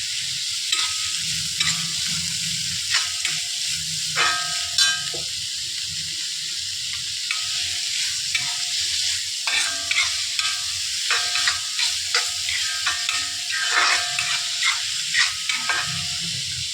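Chicken gizzards sautéing with a little salt in a pan for a Kerala-style roast: a steady close sizzle broken by repeated clanks and scrapes of a spoon stirring against the metal.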